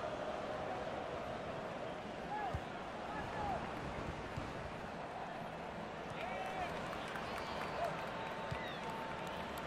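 A stadium crowd in the FIFA 18 football game gives a broad, steady roar with swelling cheers, dense and continuous with faint whistles, while a commentator talks over it.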